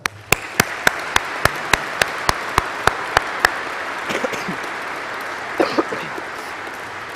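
A single person near the microphone claps about a dozen evenly spaced times at a graduation ceremony, the sharp claps stopping midway, followed by a few scattered faint claps and soft room murmur.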